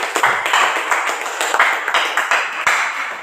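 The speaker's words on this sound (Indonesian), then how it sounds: "Mari kita berikan tepuk tangan." Classroom audience applauding after a group presentation, a steady wash of many hands clapping close by for about three seconds with no talk over it.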